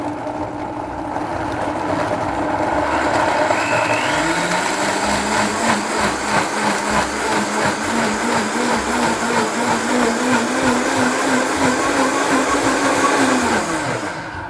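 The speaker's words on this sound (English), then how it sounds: "add them into your high-speed blender or food processor" A high-speed blender purees kiwi, its motor whirring loud and steady for about ten seconds with a rising pitch at the start and a winding-down at the end, no voices over it.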